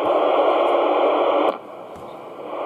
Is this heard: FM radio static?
yes